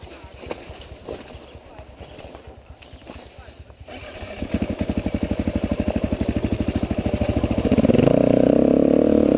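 A motorcycle engine putters at idle with a pulsing rhythm, then revs and settles into a steadier, louder drone as it moves off on a rough track. People talk nearby over the engine.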